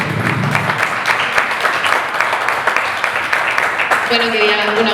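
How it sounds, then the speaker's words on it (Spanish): An audience at a diabetes gastronomy day event applauds, a steady wash of clapping from many hands that continues throughout, with a voice speaking over it near the end. "Un aplauso."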